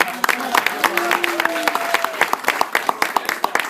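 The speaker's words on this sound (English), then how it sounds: "Can we get a big round of applause for Devin?" Audience applause at a magic show: dense, steady hand clapping from a crowd, close and fairly loud, with a few brief voices and whoops over it for a few seconds.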